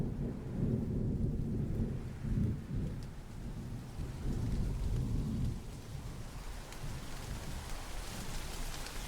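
Steady rain with rolling thunder, low rumbles swelling and receding under a constant wash of falling rain, which grows hissier and more prominent toward the end.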